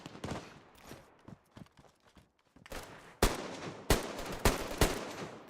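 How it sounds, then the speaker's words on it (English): Pistol shots in the DayZ survival game, set in Chernarus: several sharp, loud reports fired at irregular intervals after a stretch of quieter footsteps and shuffling. "Why am I shooting with a pistol right now?"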